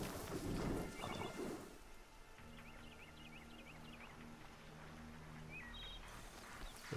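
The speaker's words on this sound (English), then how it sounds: "There's another horse there." A robotic, horse-like Strider machine from the video game Horizon Zero Dawn gives a short run of warbling, chirpy mechanical neighs at middle distance, layered over a steady game ambience with a low droning hum.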